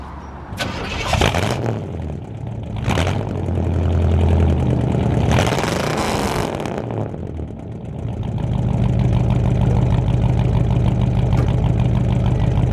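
A 1965 Pontiac Catalina engine, running rich, cranks and catches in a few bursts, then settles into a loud, steady, rumbling idle close by.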